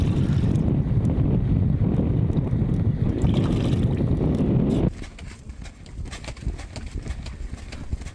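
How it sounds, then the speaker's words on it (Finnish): Strong wind roars loud and steady at a winter camp on a ski trek, buffeting the microphone for about five seconds before easing into weaker, gusty blowing. "tuuli oli yltynyt varsin voimakkaaksi"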